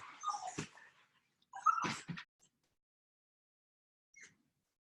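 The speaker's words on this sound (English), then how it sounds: "Can you hear my dog crying?" A dog whimpers and cries in two short bursts, then gives a faint high whine after a pause, close by in a quiet room.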